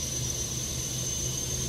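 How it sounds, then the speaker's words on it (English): A steady broadband whine and rush comes from the tail-mounted auxiliary engine of an A321 parked on the ground in Microsoft Flight Simulator. The sound is constant and even, with a thin high tone running through it. "Little engines in the tail of the aircraft."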